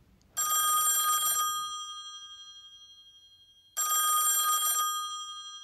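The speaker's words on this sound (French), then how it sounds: "le téléphone ressonne" A telephone bell rings in two loud, clear bursts about three seconds apart, each ring trailing off into silence, set as a sound effect in a narrated ghost story.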